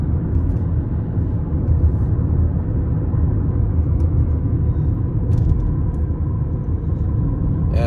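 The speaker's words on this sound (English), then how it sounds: "the lightning and the thunder is pretty incredible right now" Deep, continuous rumble of thunder rolling through a strong thunderstorm with heavy rain in the area, a steady low roar that stays loud and unbroken throughout.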